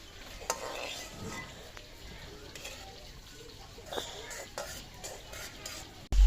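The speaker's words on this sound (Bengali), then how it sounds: "পেঁয়াজ দিয়ে দিয়েছিলাম, নাড়া দিচ্ছি" Onions being stirred as they fry in a pan while cooking noodles, with soft scraping and stirring clatter over a steady low sizzle, close and moderately loud, continuing throughout.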